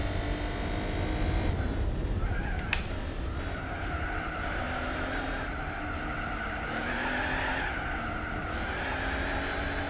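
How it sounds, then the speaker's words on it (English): A race car engine in Gran Turismo 4 roars and whines continuously, pitch rising and falling with gear changes, along with tire squeal, loud and close. "It's pretty epic sound, this engine,"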